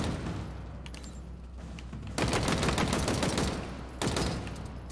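Commando rifle bursts in Halo Infinite multiplayer: two dense rapid-fire volleys, each lasting about two seconds, loud and close over a low game background hum.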